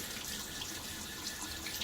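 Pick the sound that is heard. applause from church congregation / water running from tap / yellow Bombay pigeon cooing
water running from tap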